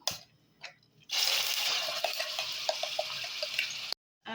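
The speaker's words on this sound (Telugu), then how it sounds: "నూనె వేడెక్కింది. ఈ పేస్ట్ దీంట్లో వేసేస్తున్నాను." Spice paste dropped into hot oil for a Sheelavathi fish curry, bursting into a steady close sizzle after a few quiet scrapes, with small pops and clinks through it before it cuts off abruptly.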